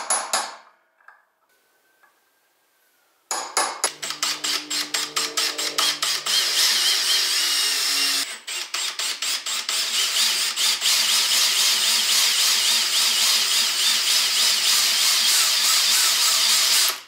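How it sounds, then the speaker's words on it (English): A drill grinds steadily into a metal clutch base on a 64cc moped build for a long stretch, close and loud, with a rapid pulsing chatter and a brief pause partway through. "now it becomes the fun part of drilling it"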